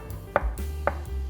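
A knife cuts through soft mung bean jelly (cheongpomuk) on a board, two crisp, close knocks about half a second apart in a quiet kitchen.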